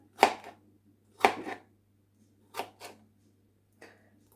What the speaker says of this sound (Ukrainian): І далі ріжемо шматочками